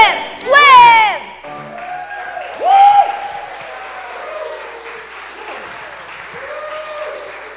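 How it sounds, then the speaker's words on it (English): Congregation applause after a song at a church morning worship service fills the background as a soft, steady patter, with voices and a brief sung or spoken phrase heard over it early on. "Big round of applause for these guys."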